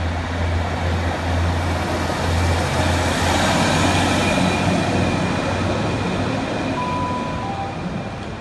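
A British Rail Class 153 diesel unit pulls out of Stoke-on-Trent station bound for Crewe, a loud continuous engine drone and wheel rumble close by, holding steady and then easing slightly as it leaves.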